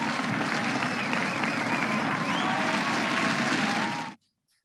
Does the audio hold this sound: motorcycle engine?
no